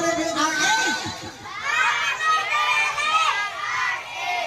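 Children shout and cheer together at a first birthday party, a loud, dense crowd of young voices rising and falling continuously throughout.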